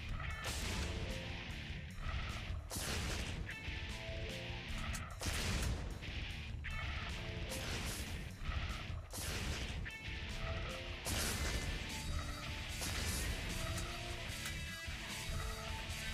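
Rocket launcher fire in the video game Crimsonland: dense, continuous bursts of explosions and crashing impacts in rapid succession, loud and busy throughout.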